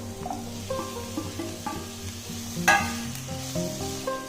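Tomatoes sautéing in a pan with fried onions and toasted spice masala for a home-style chicken roast, a steady sizzle broken by scraping stirs and a louder burst as they hit the oil, with faint tonal hum behind.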